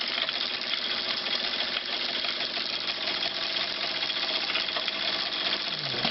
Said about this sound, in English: there's all 3 of my steam engines running at once